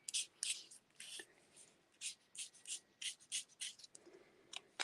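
Close, quiet marker coloring on a card, a pecan pie colored marker rubbing in quick bursty strokes with short pauses between them.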